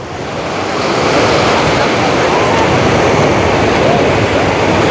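Stormy sea waves roll onto the beach at Anapa, Russia, a loud, continuous roar of surf with buffeting wind across the microphone and no clear breaks.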